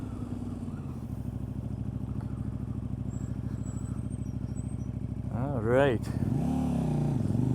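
A KTM RC8 sport bike drones steadily while cornering on a track day, then rises in a sharp throttle surge near the end, with a rider's voice speaking briefly over the engine.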